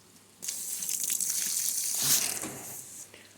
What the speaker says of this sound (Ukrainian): Трошки водичку я злию чуть-чуть.